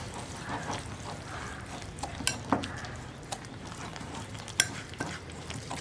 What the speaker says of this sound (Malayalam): ഒരു സ്പൂണോ വിസ്കോ എന്തെങ്കിലും യൂസ് ചെയ്തിട്ട് നമുക്ക് മിക്സ് ചെയ്യാം.